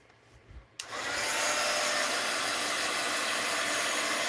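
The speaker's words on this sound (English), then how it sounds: "Let's hit that with the heat gun." A heat gun switches on abruptly after a moment of quiet room tone and blows a loud, steady roar of hot air that holds without pause to the end, with no talking.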